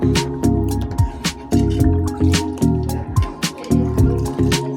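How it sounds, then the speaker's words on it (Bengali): Milk being stirred in a pot with bay leaf, cinnamon and cardamom, close rhythmic liquid sloshes and scrapes repeating roughly every half second, each stroke distinct. "ভালোভাবে নেড়ে নিই দুধটা।"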